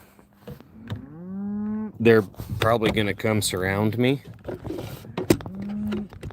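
Gentle cattle moo loudly and repeatedly at close range around a rider on horseback, long drawn-out calls that overlap and rise in pitch, with someone speaking between them.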